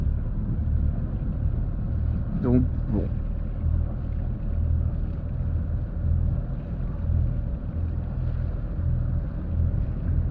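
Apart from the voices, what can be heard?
boat engine left running at anchor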